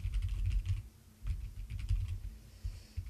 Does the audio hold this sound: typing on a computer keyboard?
yes